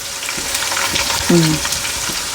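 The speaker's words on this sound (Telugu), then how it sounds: "అవన్నీ వేగుతూనే ఉంటాయండి మనకి ఇక్కడ" Green chilies, mint and coriander fry in oil for a chicken masala curry, giving a steady close sizzle with a brief tonal clink or squeak partway through.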